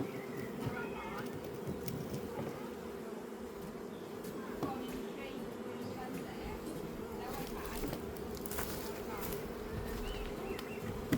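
Honey bees buzz steadily at an open hive during spring swarm-prevention work, a dense continuous hum close by. A person talks over the buzzing.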